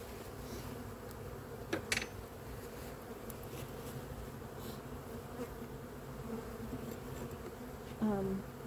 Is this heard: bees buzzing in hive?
yes